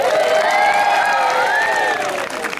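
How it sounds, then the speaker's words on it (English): A folk festival audience cheering and whooping loudly, with voices rising together in a sustained roar that fades slightly at the end. "you'll get the biggest round of applause"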